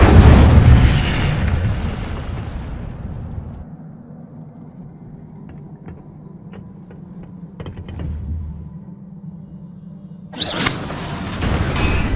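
A fiery Incendio spell is cast in the video game Hogwarts Legacy, producing a loud, deep roaring burst of flame that fades into a low hum, with faint ticks and a final whoosh.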